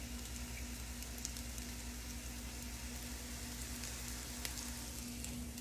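Potato patties frying in a pan, a steady low sizzle and crackle running evenly throughout with a faint electrical hum underneath, no voices.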